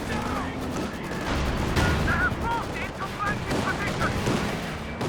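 Tank cannon and flak gunfire from a World War II strategy game match between Flak Panzers and medium tanks, a dense continuous barrage of shots and rumbling battle noise with a commentator talking over it.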